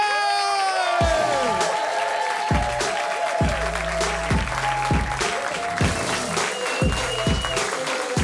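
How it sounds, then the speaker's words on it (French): A live comedy show audience applauding at the end of a sketch, sustained dense clapping with scattered cheers and whoops, while a host's amplified voice talks over it. "continuez d'applaudir du bruit pour Bambi, s'il vous plaît"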